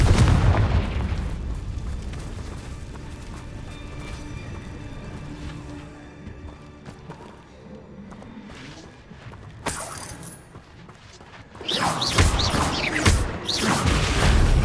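A Confringo blasting spell explodes in the video game Hogwarts Legacy: a loud opening boom decays into rumbling debris, then sharp bursts and a second heavy, crackling blast erupt near the end.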